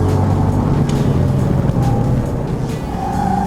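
An Audi TT sports car on a race track at the Bahrain International Circuit, its engine giving a loud, steady, close roar with a slight change in pitch while braking into a corner, with no talking.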